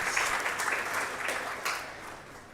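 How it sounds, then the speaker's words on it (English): A crowd at a building inauguration gives a round of applause, steady, close clapping that holds evenly and then tapers slightly toward the end. "Can we give ourselves a round of applause?"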